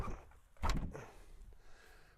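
Door of a 1978 Chevy G-20 van packed with aluminum cans pried open in one short, loud mechanical burst with a rattle, fading into quiet room noise.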